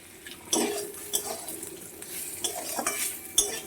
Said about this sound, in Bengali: কড়াই দিয়ে দিলাম সর্ষের তেল, দিয়ে দিচ্ছি কাঁকরোল।